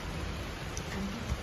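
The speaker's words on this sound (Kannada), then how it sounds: "ಮನೆಯ ಮಾಲಿಗೆ ಮಳೆ ನಿಲ್ತಾನೆ ಇಲ್ಲ, ಜೋರಾಗ್ತಾ ಇದೆ." Heavy rain mixed with hail pours onto the roof of a house in Coorg, a steady, dense, even hiss that continues throughout without any voices.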